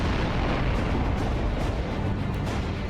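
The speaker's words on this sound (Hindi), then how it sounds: "धमाकों का शोर" Explosions in a war setting: a continuous, loud, dense roar of blasts and rumbling that fills the whole stretch with no pauses.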